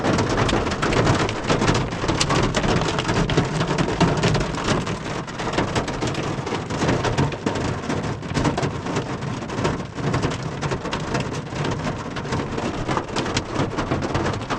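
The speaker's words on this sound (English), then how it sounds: "we are in the hail" Hail pounds hard and steadily on a DIY camper roof near Lyons, Colorado, a dense, loud drumming that never lets up.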